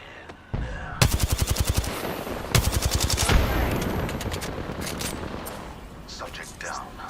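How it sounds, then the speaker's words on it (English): Automatic gunfire from an Apex Legends match, two rapid bursts of closely spaced shots near the start and middle, loud and close, followed by a lingering rumble and scattered game effects, with a voice talking underneath. "Listen up, I'm getting shot at."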